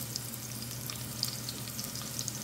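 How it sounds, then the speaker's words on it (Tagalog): Ginger frying in hot oil in a cooking pot, a dense, steady close sizzle with small crackling pops scattered across the short stretch, no voices. "Painitin natin yung kaldero at maglagay tayo ng oil. Tapos isunod na natin yung ating luya."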